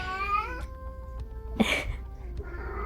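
A house cat meows once near the middle, close and fairly loud, over a quiet room with a held tonal background.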